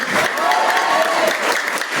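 A crowd at a live Activation Day event bursts into sustained, loud applause, dense clapping from many hands filling the whole stretch with steady energy and a few cheers mixed in.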